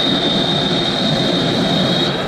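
A voice imitates a jet airplane engine as one loud, steady roar with a thin high whine running through it. It holds continuously for a couple of seconds with no talking.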